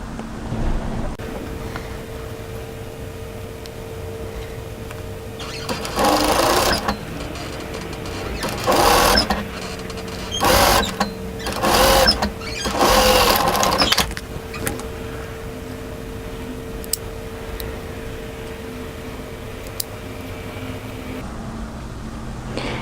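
A home sewing machine stitches a second line along the hem of a knit tee dress beside an overlocked seam. Several short motor runs of one to two seconds each hum close by between quieter stretches, with no talking.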